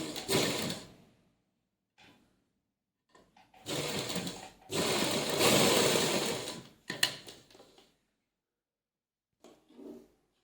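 A sewing machine stitches around the curved edge of a half collar in several bursts, some short and some longer, with quiet pauses between them. It runs close and clear with no voices.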